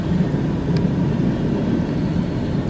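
Freight train locomotives pass at a railroad diamond with a loud, steady, broadband rumble that does not let up.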